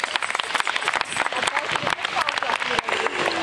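An audience at an open-air fairy-tale show in Dortmund claps in a loud, uneven burst of applause, with a performer's voice cutting in over it.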